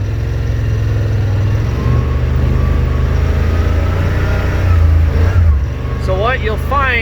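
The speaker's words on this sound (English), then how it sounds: "hopefully you'll be able to even hear the RPM change" A Yamaha RMAX 1000 side-by-side driving over a rocky road, its engine droning steadily up close with the RPM rising and falling, while someone talks over it near the end.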